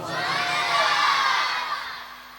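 Crowd at a religious gathering (Mehfil-e-Milad) calling out slogans in unison, a loud sustained massed shout that swells and slowly fades, with no other voices over it.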